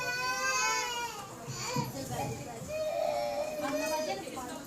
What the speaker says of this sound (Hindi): कौन सा बच्चा रो रहा है?